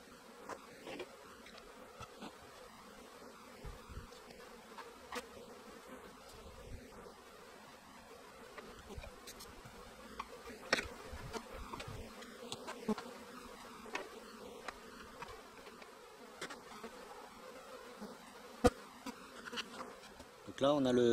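Small honeybee swarm at an apiary hive in February, buzzing continuously at close range, a steady drone with individual bees passing near and faint rustling.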